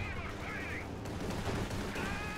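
Gunfire tears into a Panzer Grenadier infantry squad in the Company of Heroes 2 strategy game: a dense, continuous battlefield rattle of shots and impacts, steady and loud across the whole moment.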